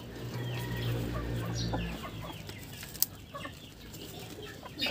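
Backyard chicken clucking close by while eggs are gathered, a few short soft clucks with brief wing flapping and one sharp knock partway through, fairly quiet overall.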